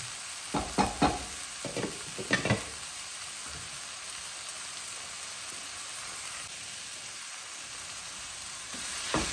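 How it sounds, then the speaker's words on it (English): A few clinking stirs and scrapes in a pot early on over a constant bubbling, hissing background that continues alone afterward. "Give our pasta a stir, keep it from sticking so bad."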